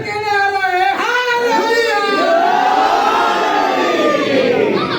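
A large crowd loudly chanting religious slogans at a gathering in Sargodha, a continuous massed roar of voices with rising and falling tones, close and full throughout.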